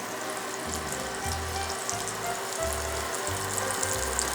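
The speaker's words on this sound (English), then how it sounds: "I'm just melting 1 tablespoon of butter" Butter melting in a pan for a Dijon mustard sauce gives a steady, faint sizzle with a soft hiss over a low hum, unbroken throughout and with no talking.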